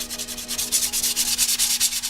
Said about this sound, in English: Now I'll just take some 220 sandpaper and just blend this in just a little bit.